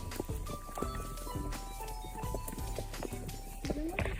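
Ponies walk with soft, irregular hoof clip-clops nearby, while people talk in French over the top.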